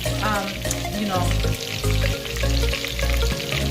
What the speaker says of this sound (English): Do not over fry it, because it's just not gonna taste good in the curry.